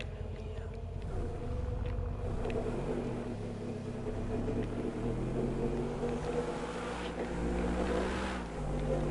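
A car drives in GTA 5, its engine a steady droning hum with shifting pitch, loud and close, while a person talks over it throughout.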